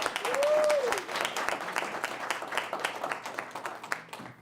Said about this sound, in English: just give her a little round of applause for that